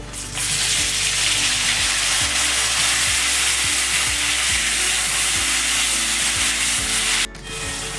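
Chopped tomatoes frying in hot oil with cumin and bay leaves in a pan, after prawns were fried, giving a steady dense sizzle with scraping stirs throughout, close and fairly loud, briefly dipping near the end.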